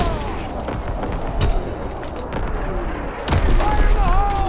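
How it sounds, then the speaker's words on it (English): Enemy artillery in Call of Duty: WWII: repeated heavy booms and rumbling blasts come in bursts over a steady noisy battlefield bed, with a few sharper impacts near the end. "Incoming enemy artillery."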